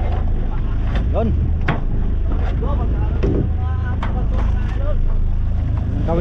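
A fishing boat's engine runs loud and steady close by, a continuous droning rumble with wind noise, while voices talk over it.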